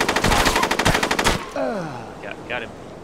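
Rapid automatic gunfire aimed at a vehicle in the video game SOCOM Combined Assault, a loud fast burst lasting over a second that stops abruptly, followed by a falling electronic whine and brief game sounds.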